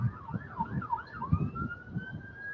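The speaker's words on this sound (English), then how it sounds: "I hear sirens" Emergency vehicle sirens wail outdoors, cycling up and down several times before settling into a long, steady rising tone, moderately distant over a low background rumble.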